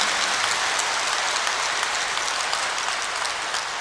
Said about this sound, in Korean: 이 박수까지 받네요